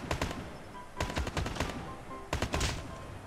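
AK rifle tap-fired in COD Mobile, three quick clusters of sharp gunshots spaced about a second apart, each a short rapid burst of cracks, loud and up close.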